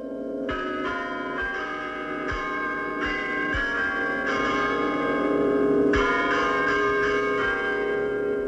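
Church bells ring in Agnone, Italy, a town known for its bell foundries, several bells pealing together in a loud, dense, sustained clangour with repeated strikes, no voices.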